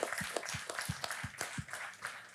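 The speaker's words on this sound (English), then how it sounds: "So please, a big round of applause for Laetitia," Audience applause for a fasting-experts panel, steady clapping from a crowd with irregular sharper claps, moderately faint and continuous without talk.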